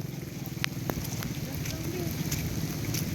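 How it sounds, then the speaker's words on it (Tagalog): Steady rain grows heavier outdoors on the island of Pulang Bato, a dense continuous hiss with scattered sharp drops and taps, while people talk nearby. "sumilong tayo, lumalakas yung ulan"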